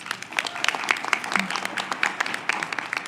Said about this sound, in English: so we're going to give her a big round of applause